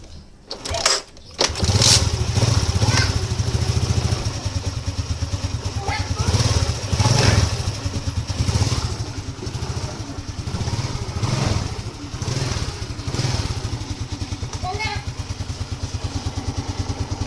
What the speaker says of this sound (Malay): motor hidup tanpa bateri ya